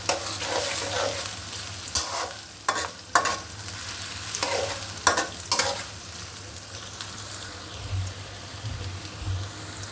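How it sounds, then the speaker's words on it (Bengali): Onions with green chilies fry in a pan while being stirred, a steady close sizzle broken by repeated scraping strokes of the spoon, with no one talking. "পেঁয়াজটা বেশি ভাজবো না একটু হালকা করে তারপরে আমি মশলাটা দিয়ে ঢেলে দেবো"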